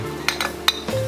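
Ripe Moovandan mango pieces tumble into a mixer grinder jar in a home kitchen, giving three or four quick clinking knocks against the jar close by, then a settling clatter.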